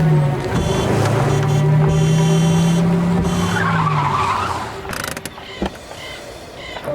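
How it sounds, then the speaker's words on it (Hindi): Animated car skids to a halt with a long rising tire squeal and rumbling engine, then settles into quieter idle with light clatter at the end. "जल्दी से जल्दी गाड़ी उसके पास ही रोको"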